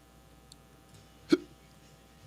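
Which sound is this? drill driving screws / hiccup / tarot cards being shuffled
hiccup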